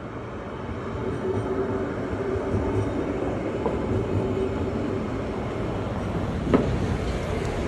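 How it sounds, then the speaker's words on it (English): A West Midlands Metro tram in Birmingham passes with a steady, loud rumble of wheels on track that lasts throughout, with one brief clank near the end. "This is the West Midlands Metro. It's actually tramway, but they call metro."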